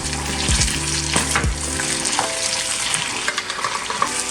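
Minced garlic from a jar sizzling in a frying pan before collard greens go in, a loud continuous crackling hiss with a few low thuds and scrapes from stirring near the start.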